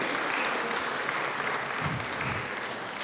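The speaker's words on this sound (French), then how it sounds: "Now give them a hand." A church congregation claps loudly and continuously, a dense roar of many hands close by filling the whole moment with no voices over it.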